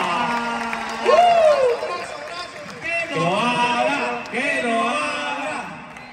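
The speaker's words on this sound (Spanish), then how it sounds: "Un aplauso." A live audience at a podcast show in Hermosillo claps and cheers, a steady roar of crowd noise running throughout with loud voices calling out over it.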